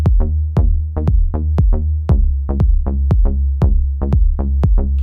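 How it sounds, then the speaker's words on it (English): Elektron Digitone bass and kick drum pattern: a steady run of punchy kicks, about twelve in five seconds, each locked to a deep sustained bassline. Only these two parts play, loud and close, with no other instruments or voices. "in the last pattern, I would just have the bass and the kick playing"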